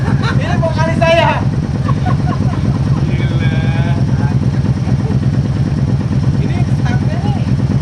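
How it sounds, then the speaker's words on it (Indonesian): Customized Harley-Davidson motorcycle exhaust rumbling steadily at close range, a deep low pulsing drone that holds throughout while people talk over it. "sekarang udah suara knalpot"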